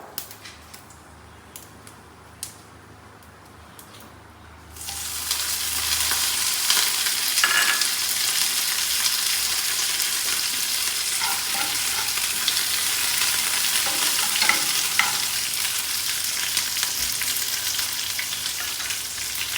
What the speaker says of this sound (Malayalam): ഈ കറിവേപ്പിൽ ഈ മുളക് ഇട്ട് കൊടുക്കാം